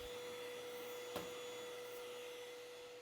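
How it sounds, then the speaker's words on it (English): Vacuum cleaner hose drawing lint out of a clothes dryer vent cavity, a steady close drone with a constant whine and a brief clack partway through. "hose of your vacuum down inside the cavity to suck up as much lint as possible"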